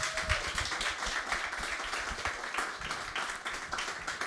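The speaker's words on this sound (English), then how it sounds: "join me in a big round of applause for our panel" An audience gives a round of applause for a panel at a music-industry internship event, a steady, moderately loud patter of many hands clapping throughout.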